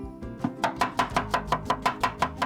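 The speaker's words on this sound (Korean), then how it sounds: "현란한 칼질로 양파를 썰고" A knife chopping onions on a cutting board in a small kitchen, about a dozen crisp, evenly spaced strikes in a quick steady rhythm, close and clear with no talking.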